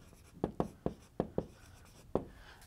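Handwriting strokes during a lecture on linear maps, about six short, crisp scratches in an uneven rhythm, close and fairly quiet, with no talking.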